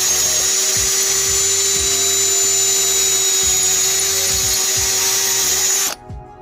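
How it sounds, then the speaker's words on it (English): A power drill whines steadily at high pitch for several seconds, loud and close, then cuts off abruptly near the end. "let me grab the drill"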